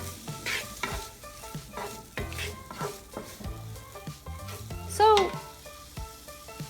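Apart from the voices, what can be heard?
red peppers and garlic sizzling in a pan for frittata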